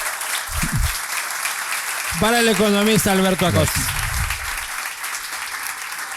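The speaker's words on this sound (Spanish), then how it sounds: "Pido que le dé un enorme aplauso" An audience claps and cheers at an event in Guayaquil honoring economist Alberto Acosta, a loud, steady wash of applause running throughout while a voice speaks and drawn-out musical tones rise in the middle.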